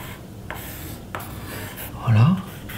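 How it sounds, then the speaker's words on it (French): Soft scratchy strokes of a pencil moving across paper, a few brief marks followed by a louder rubbing stroke, close up with no voices. "Si je dessine avec le crayon,"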